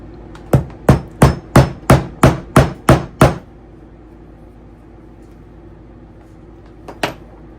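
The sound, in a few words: setting a double cap rivet with a rubber hammer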